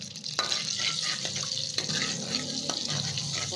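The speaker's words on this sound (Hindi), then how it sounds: "थोड़ा सा इसको फ्राई करेंगे" Whole cumin seeds fry in two or three spoonfuls of hot oil, giving a continuous close sizzle with a few sharper stirring clacks scattered through it.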